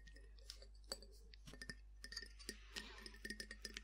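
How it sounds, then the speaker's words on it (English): A glass sweet jar of pear drops with a lace design clinks and taps in a series of sharp, close, delicate knocks, irregular and quiet, with no voice over them. "They come in this lovely glass jar"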